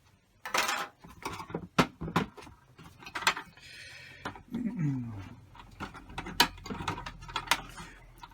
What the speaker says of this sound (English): I'm just going to remove this plate, this back plate here.